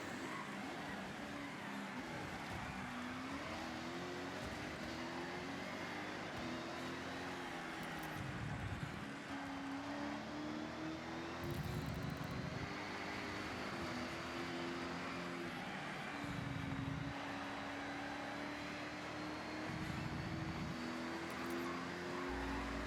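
Race car engines in the Forza Horizon 6 game drone steadily and rise in pitch through gearshifts during a lapped race, sustained and moderately loud, while someone commentates over them.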